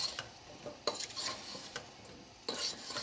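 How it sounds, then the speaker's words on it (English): Cauliflower and potato pieces stirred in a pan to coat them in spices, with a few scraping, clattering utensil strokes over a soft sizzle. "a good stir to make sure you coat all the vegetables in the spices."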